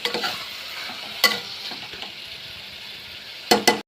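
Chicken curry simmering in a pan with a steady soft sizzle, broken by a few sharp metallic scrapes and clinks of stirring.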